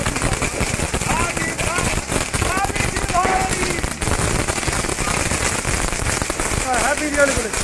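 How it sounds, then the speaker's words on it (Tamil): Diwali firecrackers burst in dense crackling rapid-fire volleys, loud and continuous like a string of crackers at a home celebration, with voices of family members mixed in. "நாங்கள் எங்கள் வீட்டு தீபாவளியை வெடியோட ஸ்டார்ட் பண்ணியாச்சு"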